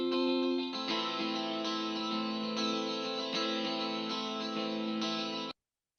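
A music track edited in Premiere Pro plays with a reverb effect: sustained layered tones with distortion and chorus repeat evenly, then cut off abruptly into silence near the end.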